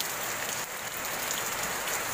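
Steady heavy rain pours down during Typhoon Ulysses in a riverside area, a dense continuous hiss with no voices, unbroken for the whole stretch.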